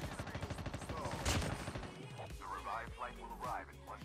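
Rapid automatic gunfire in the mobile shooter Call of Duty Mobile during a battle royale match, pulsing bursts with explosive impacts while players talk over it.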